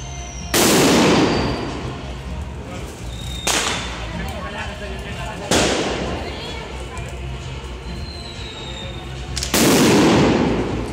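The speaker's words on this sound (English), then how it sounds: "check out the fireworks and see you later" Fireworks go off in Barcelona with four loud, close bangs spaced a few seconds apart. Each bang leaves a long crackling and rumbling tail.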